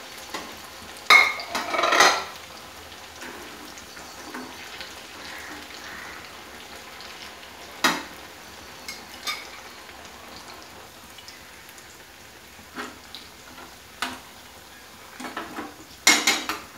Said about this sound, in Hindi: जैसे हम पकौड़े बनाते हैं उसी तरह ये फ्राई करेंगे